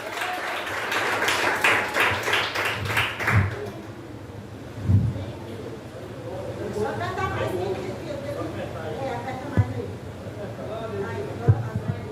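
A church congregation bursts into rapid hand clapping for a few seconds, then fades beneath a preacher's continued speech, with a few isolated claps and taps afterward.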